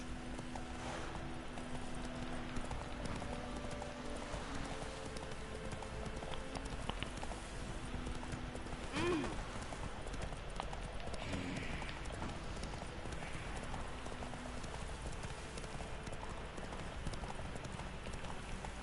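Roach the horse gallops in The Witcher 3: Wild Hunt, hooves pounding in a steady, rhythmic clip-clop that runs continuously and close, with a brief snort partway through.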